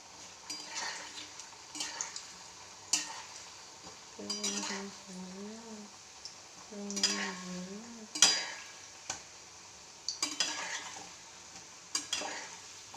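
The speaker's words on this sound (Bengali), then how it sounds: "লো ফ্লেমে ডিপ ফ্রাই।" Potato pakoras deep frying in oil over a low flame, with a soft steady sizzle and repeated clinks and scrapes of a spoon stirring in the pan, and a brief hum of a voice in between.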